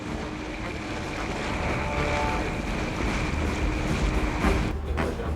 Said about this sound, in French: le pneumatique aborde les hauts fonds, les vagues se font de plus en plus menaçantes